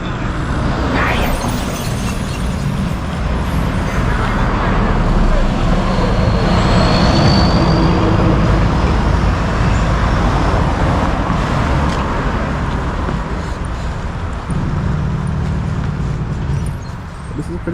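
Steady, loud road traffic rumbles past a pedestrian crossing near PM Hospital, a continuous wash of passing cars and heavier vehicles with no clear breaks, while a voice talks faintly underneath.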